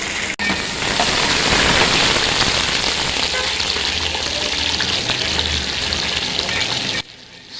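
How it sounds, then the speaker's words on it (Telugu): Tempering oil sizzling hard in a pan for a curry, a loud, dense, continuous crackle close up that runs for about seven seconds before dropping away. "అసలు తాలింపు నూనె చూడండి ఎంత మంచిగా మసులుతుందో"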